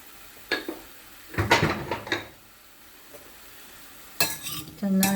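Stirring cauliflower bhaji in a frying pan: a spoon scrapes and clinks against the metal in several short bursts, with a soft sizzle of frying underneath and a louder sustained rattle near the end.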